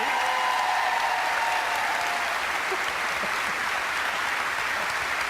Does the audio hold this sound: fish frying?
no